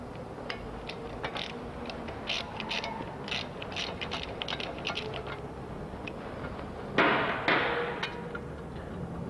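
A ratchet wrench clicking as it turns a 10 mm bolt on an engine block, with bursts of quick metallic ratcheting and a louder mechanical clatter near the end, heard up close with no talk.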